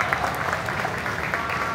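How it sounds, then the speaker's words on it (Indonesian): A crowd of students at a protest outside the presidential palace claps together in a dense, continuous burst of applause, with a faint murmur of voices underneath. "tepuk tangan untuk kalian semua"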